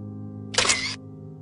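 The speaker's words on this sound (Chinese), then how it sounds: "洛迪按下快门" A camera shutter gives a single crisp click as a photographer takes a portrait. The short mechanical snap stands alone over a quiet, steady musical bed.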